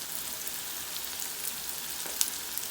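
Two large sliced onions with a little salt sizzle in a pan, a steady close crackle with a few brighter pops and no talking.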